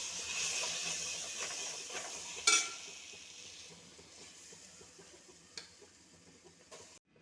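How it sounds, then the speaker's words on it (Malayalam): Chana dal sizzles in hot ghee, a high frying hiss that starts loud and slowly fades, with one sharp clack of a spoon against the pan and a few quieter knocks as it is stirred. "ഇനി ഇതിലേക്ക് ഈ കടലപ്പരിപ്പ് കോരി ഒഴിക്കാം."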